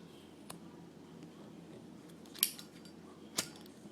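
Paracord cut at an angle with scissors: two sharp, quiet snips about a second apart, with a fainter click before them against a soft background hiss.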